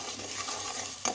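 Ginger frying in a pan with onions already fried, for achari chicken; a steady, soft sizzle runs throughout, ending in a brief louder clink or stir.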